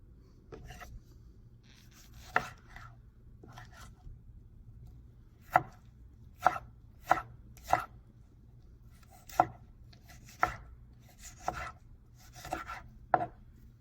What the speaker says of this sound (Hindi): ये मैं तो टमाटर ले लिया, अभी इनको काटेंगे